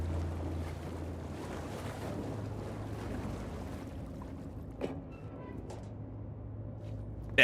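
Steady watery wash with a low rumble runs through a game level in Alan Wake 2, a continuous ambient murmur of moving water, with a couple of brief faint clicks and no talking.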